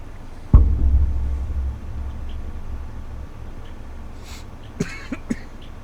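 A single sharp cough bursts out close up after swallowing wrong, followed by a low rumbling throat sound and a few faint later catches and clicks.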